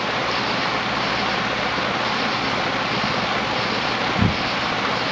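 A 1988 HRS 56-inch industrial ceiling fan running at high speed, giving a loud, continuous broadband rush of moving air with a steady hum, unbroken throughout apart from one brief low thump.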